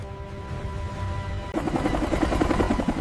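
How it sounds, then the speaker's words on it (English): A helicopter's rotors thump loudly and rapidly, the pulsing beat growing heavier and closer halfway through. "The helicopters arrive in perfect formation, their massive rotors beating the air with thunderous power."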